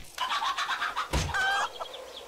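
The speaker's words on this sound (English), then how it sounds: "Oh, there's a chicken." Chicken clucking in a video game, a short run of close, loud clucks and squawks over game background sound, with a sharper burst midway.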